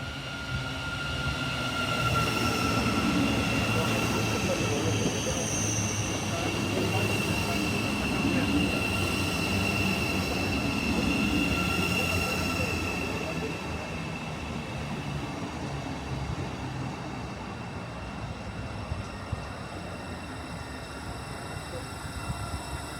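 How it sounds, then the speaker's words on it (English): A train pulls into Sandy station on the East Coast Main Line, with a steady loud rumble of wheels and squealing tones that persists for about twenty seconds before easing slightly as it slows. "this train actually pulled into Sandy station out of the blue"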